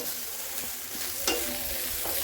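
Egg fried rice being tossed and mixed in a pan over a high flame, a steady loud sizzle with scraping stirs and a sharper clatter near the middle, with no voices.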